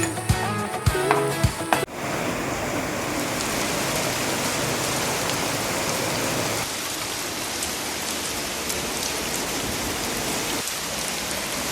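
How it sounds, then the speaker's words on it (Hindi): Heavy rain pours steadily outdoors, a dense, even hiss that runs throughout after a few brief clattering knocks at the start, loud and close with no voices. "इधर बारिश स्टार्ट हो गई है"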